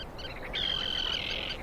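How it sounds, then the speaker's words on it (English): A single bird's clear, sustained whistling call over soft background chatter of other birds at Skadar Lake, a migratory resting ground on the Montenegro–Albania border, heard close and alone. "the sound of prayer is accompanied by the calls of thousands of birds"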